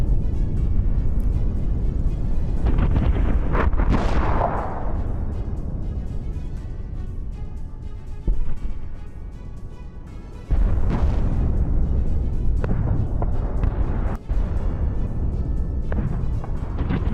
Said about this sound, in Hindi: इटली में ज्वालामुखी विस्फोट हुआ है।